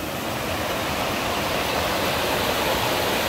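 Arnel Falls, a waterfall in Taiwan, pours as a steady, dense roar of rushing water that fills the whole moment evenly and close by, with no voices and no breaks.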